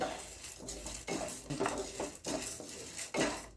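Toor dal tipped into a pan of roasting chana dal for homemade Chettinad-style paruppu podi gives off repeated scraping, clattering strokes of a spoon against the metal pan, steady and close with no talking.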